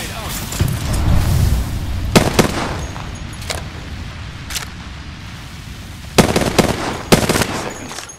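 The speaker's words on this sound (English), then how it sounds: "Throwing thermite grenade. Thermite grenade out." Thermite grenade thrown and burning in Apex Legends, heard as a steady crackling, hissing burn with several sharp bangs and bursts of gunfire on top, moderately loud across the scene.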